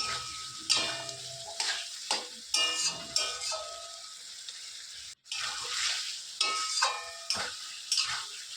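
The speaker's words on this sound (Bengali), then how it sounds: "ভালো করে নাড়াচাড়া করে নিচ্ছি।" Chicken curry frying in a pot is stirred repeatedly, rhythmic scraping strokes over a bright hissing sizzle, close up, with a brief dropout midway and no voices.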